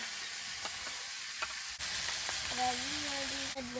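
Chopped tomato goes into a pan of frying beans and potatoes for a curry, giving a loud, steady close sizzle, with a faint voice rising briefly near the end.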